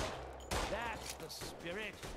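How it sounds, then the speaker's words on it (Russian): Several sharp, rapid pistol gunshot bursts from the video game Raid: World War 2, cutting through a busy mix of game sounds and a voice speaking over them. "Как этот пистолет стреляет?"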